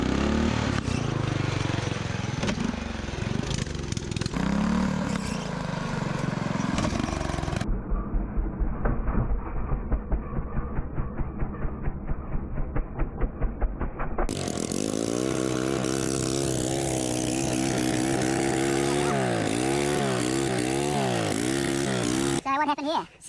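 Small petrol engine of a homemade mini tank running and revving during an axle strength test, a buzzing, chainsaw-like drone with a rapid chattering stretch in the middle and rising and falling revs later, loud and close.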